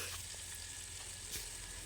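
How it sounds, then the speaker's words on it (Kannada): Chicken pieces hit hot oil for a chicken sambar, giving a faint, continuous crackling sizzle with small spits and pops, quiet and close with no voices. "ಚಿಕನ್ ಒಂದೇ ಸಲ ಸಿಡಿಯೋಕ್ಕೆ ಸ್ಟಾರ್ಟ್ ಆಗುತ್ತೆ."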